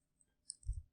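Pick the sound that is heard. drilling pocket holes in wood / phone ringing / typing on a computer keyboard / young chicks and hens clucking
typing on a computer keyboard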